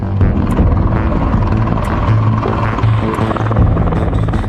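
A US Army Apache AH-64 gunship helicopter, heard close and loud as a continuous rotor and engine roar with rhythmic low thumping, no voices.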